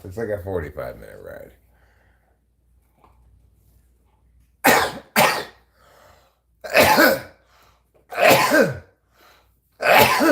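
A person sneezes about five times in a row after someone talks briefly. Each sneeze is a loud, abrupt burst, close by, separated by short quiet gaps.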